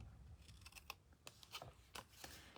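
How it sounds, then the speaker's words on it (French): Scissors trim excess cardboard for a handmade card, a series of close, crisp snips and crunchy cuts at an uneven pace, quiet and alone over a faint room hiss. "Et là, vous enlevez l'excédent, comme ceci, avec vos ciseaux."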